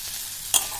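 Tomato, ginger and garlic fry in oil for masala paneer bhaji, with a steady close sizzle and one brief scrape of stirring partway through.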